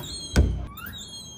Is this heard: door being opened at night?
yes